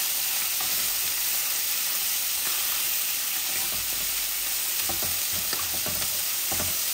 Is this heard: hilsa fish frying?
yes